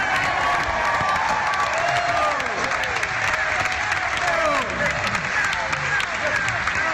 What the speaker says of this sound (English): How about another round of applause for Rex Nolan?